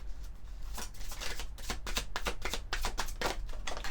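Oracle cards being shuffled and a card drawn from the deck: a steady run of close, crisp riffling flicks and soft paper slaps, fairly quiet and continuous throughout.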